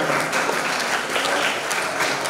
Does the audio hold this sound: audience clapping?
yes